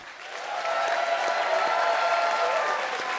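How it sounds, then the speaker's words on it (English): A studio audience at a comedy debate show applauds to vote for a debater, a sustained dense wash of clapping that swells quickly and holds steady, with a few cheers in the crowd. "It's time to vote by applause."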